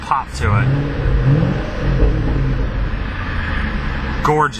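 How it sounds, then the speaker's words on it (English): A 2010 Shelby GT500's 5.4-litre V8 rumbles loudly nearby, with a quick rev rising and settling early on, then a steady throaty idle and a brief blip at the end. "Gorgeous sounding engine."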